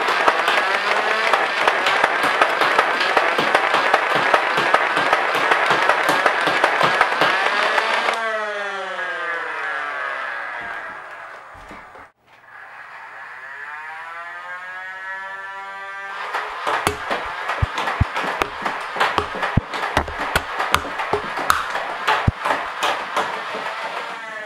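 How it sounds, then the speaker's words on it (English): A Nerf Rapidstrike blaster fires loud, rapid full-auto bursts of darts, then goes quiet to a whirring flywheel rev that rises and falls, before another dense burst of rapid firing. "I'll load it up and show you some firing. Alright, so you use that to rev it up,"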